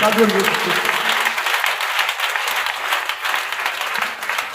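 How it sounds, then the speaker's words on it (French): A church congregation bursts into sustained clapping and cheering during an evening sermon, a dense roar of applause with voices mixed in throughout. "Acclame très fort Jésus-Christ"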